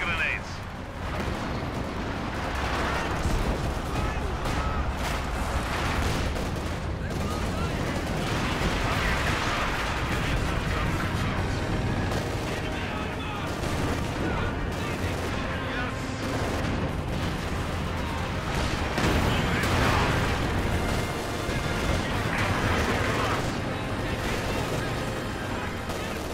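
Heavy 152 mm artillery gun firing in the video game Company of Heroes 2, with repeated loud booming blasts and rumbling explosions running continuously under a voice commenting.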